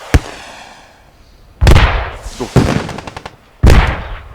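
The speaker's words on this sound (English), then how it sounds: "Rockets galore going off" Rockets launching and blowing up in the Call of Duty-style multiplayer round of CCFN 50 on an EU server: a sharp pop opens, then three loud booming blasts about a second apart, each followed by rumbling debris and crackle.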